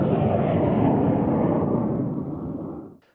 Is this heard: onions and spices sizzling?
no